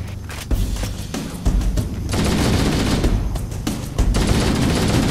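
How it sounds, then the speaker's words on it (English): Assault rifle fire in Halo: Combat Evolved, sustained bursts of loud, close automatic shots with booming low end, pausing briefly between volleys, no talk. "my goal is just to shoot with my assault rifle"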